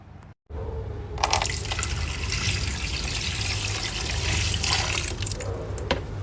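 Water poured into an ice-filled air cooler, a steady close splashing trickle that starts after a brief pause and runs on, with a faint murmur of people talking in the background.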